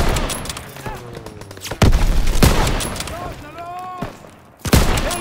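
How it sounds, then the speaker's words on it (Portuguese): Grenade blast and gunfire in the Call of Duty WWII video game, with loud sharp reports and heavy bursts of shooting over a busy battlefield din, while voices shout in between. "Arremessando granada!"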